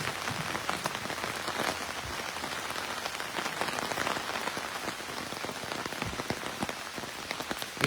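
Steady rain pours outdoors on a cold, wet night, a dense constant patter with scattered louder drips close by and no voices.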